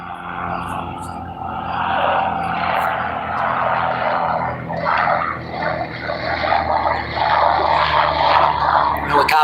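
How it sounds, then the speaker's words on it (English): Helicopter passing overhead near Highway 70 in North St. Louis, beside the Mississippi River, a steady broad engine and rotor roar lasting throughout, fairly loud and sustained, with outdoor river ambience. "Helicopter."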